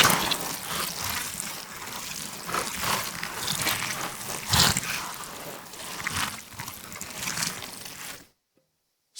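Wet, squelchy liquid creature movement built from a Biome synth preset, with dense sloshing, trickling gurgles and slimy bursts running continuously for about eight seconds before cutting to silence.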